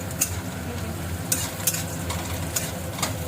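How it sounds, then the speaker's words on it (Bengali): Kalmi greens (water spinach) frying in a pan make a continuous close sizzle, broken by several sharp spatula scrapes and clinks at irregular intervals. "এখন দেখো শাক ভাজা করছে"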